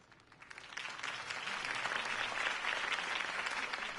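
A crowd claps and cheers, the applause swelling from quiet to a steady, dense roar that holds for a few seconds.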